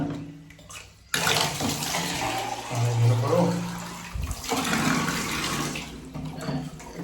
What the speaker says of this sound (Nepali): सोमा पानी हालिदिन्छु के